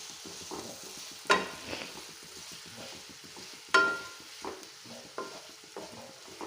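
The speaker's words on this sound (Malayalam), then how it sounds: "നമുക്ക് നല്ലോണം ഒന്ന് ഇളക്കിയെടുക്കണം." Sliced onions are stirred into a pan for a prawn roast. The scraping strokes are quiet and irregular, two louder clanks of the utensil stand out, and a faint sizzle runs underneath, with no talking.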